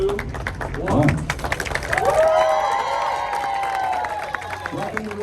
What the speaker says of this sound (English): You're going to have a big round of applause, and we'll all cut at the same time